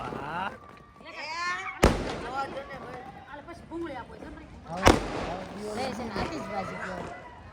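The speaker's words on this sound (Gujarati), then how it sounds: "કેવો મસ્ત ફટાકડા ફૂટે" Two sharp firecracker bangs a few seconds apart during Uttarayan 2025 celebrations, loud and close, amid excited chatter and shouting from several people.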